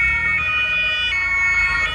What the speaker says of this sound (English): Ambulances then race to the area.